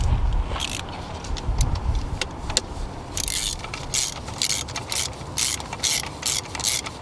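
A ratchet tightens 12mm bolts on a Toyota 2JZ engine during a spark plug job, giving a close, steady series of fast clicking pawl ratchets over a few seconds with short pauses between bursts.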